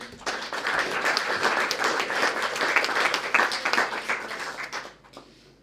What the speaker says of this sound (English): I want to give a big round of applause for all of the speakers